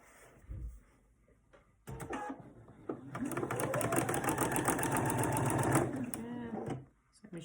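Close whirring of a sewing machine stitching paper-pieced quilt fabric for a Riley Blake Raindrops pillow, starting with a few clicks then running steadily for several seconds before stopping, with someone speaking nearby.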